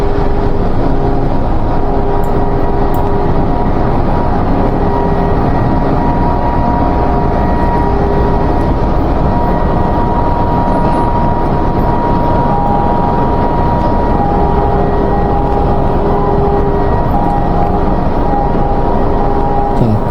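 Factory overhead crane on a travel test after electrical repair, a loud steady mechanical drone and hum with tonal whine running continuously throughout.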